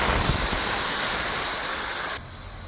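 Chickpea dal hits a hot pan of spiced masala with turmeric and chili powder, producing a loud, continuous close hiss and sizzle that drops off abruptly near the end, with no talk.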